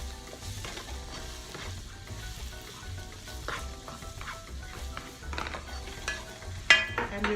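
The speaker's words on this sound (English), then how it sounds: "Just give it a quick stir" Ground masalas, Kashmiri mirch and cayenne pepper sizzle in hot oil in a pan while being stirred for chicken kofta, a continuous crackling fry with scattered scrapes and clinks, alone without talk.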